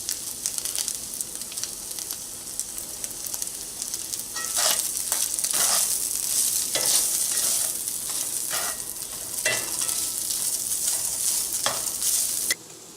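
Pork with dry rub is stirred in hot oil for a barbecue grilled cheese sandwich, giving a continuous close sizzle punctuated by spatula scrapes, which grows louder midway and cuts off abruptly near the end, with no talking.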